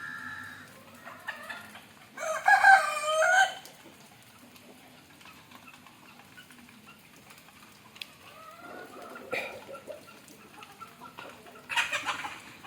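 A rooster and chickens cluck and call in a farmyard, with a louder burst of fowl calls early on and more squawks near the end, over quiet background.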